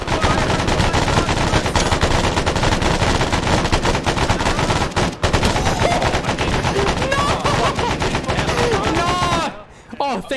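Dense, continuous gunfire in the military shooter Arma, rapid automatic bursts layered with single shots, loud and close throughout and dropping off abruptly near the end, with shouting voices mixed in.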